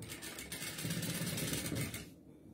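Sewing machine running steadily, folded fabric being stitched along a seam at each side; a continuous close mechanical whir at moderate level that cuts off near the end, no talking.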